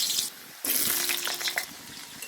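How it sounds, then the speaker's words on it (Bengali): Potatoes frying in a pan of hot oil in a home kitchen, a steady close sizzle with a brief quieter dip partway before the crackle returns. "আলুটা আমি লাল লাল করে ভেজে নেব।"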